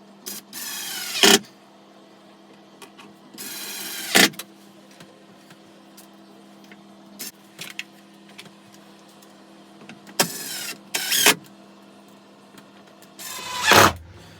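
Power driver on a low setting driving screws into a scaffold-board table, several short whirring bursts separated by pauses with faint handling knocks between them, close and loud, no speech.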